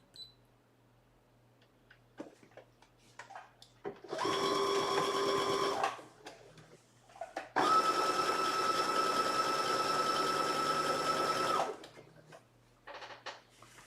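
Sewing machine running a basting stitch on a Butterick 6816 garment, two sustained whirring bursts, a short one then a longer one, close and loud, with faint clicks between them.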